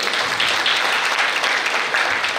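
An audience at a women's association gathering and sarod festival applauds steadily, a dense, even patter of many hands clapping throughout with no break.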